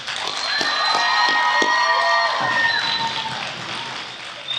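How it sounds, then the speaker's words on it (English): A graduation ceremony crowd cheering and whooping with scattered claps, loud and sustained, tapering off toward the end. "Let's give them a round of applause, graduates."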